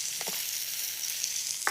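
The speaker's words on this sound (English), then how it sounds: "And then your meat is gonna go into the pan." Meat for Philly cheesesteaks searing in a hot skillet with canola oil, a bright, steady close sizzle with a few brief thumps of pieces being added, no talking.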